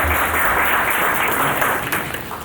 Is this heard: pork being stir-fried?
no